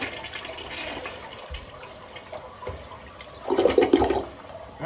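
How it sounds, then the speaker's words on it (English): A toilet flushes while a clog is being cleared, with a low rush of water building to a louder gurgling swirl near the end. No voices are heard. "let's let it fill up and flush it again"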